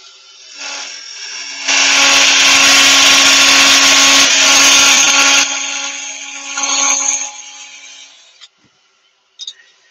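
Wood on a lathe being cut by a chisel while turning a goblet-style candle holder: a loud, steady rasping scrape that holds for several seconds, eases off, then swells briefly before stopping, with a few faint knocks afterward.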